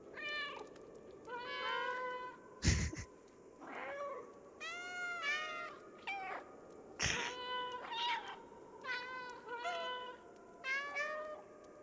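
A cat in the video game Stray meows repeatedly, a string of clear, close mews with two sharp clicks breaking in between the calls.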